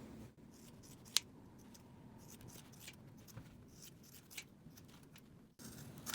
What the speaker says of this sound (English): Now I'm going to trim the seam allowance and especially the corners.